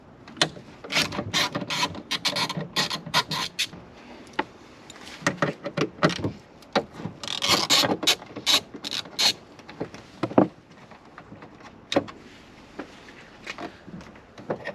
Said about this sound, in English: you just need to undo these two screws on the front here. It's the same T30 bit as the side mounts.